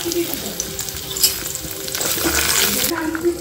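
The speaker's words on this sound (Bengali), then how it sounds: "দিয়ে দিচ্ছি প্রথমে একটুখানি তেল, রসুন আর একটু আদা" Garlic and ginger sizzling in a little hot oil, a close, steady crackling fry with a few faint clinks of a utensil and no talk.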